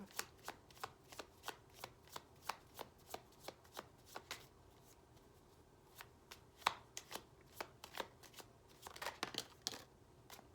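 A deck of tarot cards is shuffled in a steady run of crisp, rapid riffling clicks, close and quiet, with a brief pause midway before the rhythm resumes.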